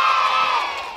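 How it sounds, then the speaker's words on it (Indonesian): Children shouting a loud, bright cheer together at a festival event, one sustained collective yell that fades slightly toward the end, with little clapping evident. "anak berprestasi itu tepuk tangannya sambil dikasih suara yeay gitu"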